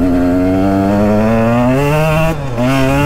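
A 2022 KTM 125XC two-stroke dirt bike with an FMF Factory Fatty pipe and Power Core 2.1 silencer revs hard and loud up close, its high, buzzy tone climbing steadily before a brief dip and a fresh rise.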